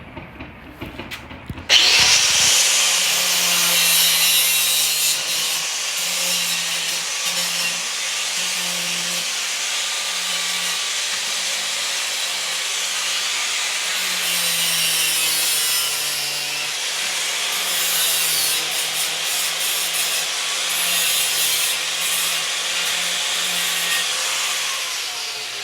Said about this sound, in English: What we're trying to do is to grind off the staples.